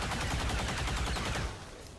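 A burst of rapid rifle fire from an XCOM 2 soldier taking a long-range shot at a Muton, with loud, evenly spaced pulses for about a second and a half before cutting off into a softer lingering tail, no talk over it.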